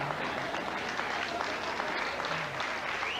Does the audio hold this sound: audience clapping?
yes